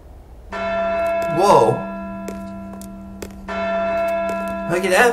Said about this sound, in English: that freaking bell scared me